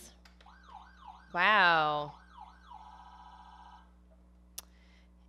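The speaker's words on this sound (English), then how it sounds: "Wow, those are cool sounds. Police sirens." Toy police siren from a Paw Patrol Ultimate Rescue Chase vehicle warbles in repeated up-down electronic sweeps, with a brief exclaiming voice over it and a sharp click near the end.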